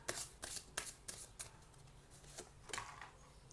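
Cards drawn from a zodiac card deck make a quick series of crisp snaps and riffling flicks, about eight sharp bursts with short pauses, close and clear, with no talking.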